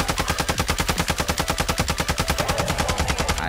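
Rapid automatic gunfire in Warzone 2, a loud steady stream of evenly spaced sharp shots lasting several seconds, close and alone without talk.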